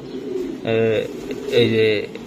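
Racing pigeons, a hen among them, give two drawn-out throaty coos close by, each about half a second long and separated by a short pause.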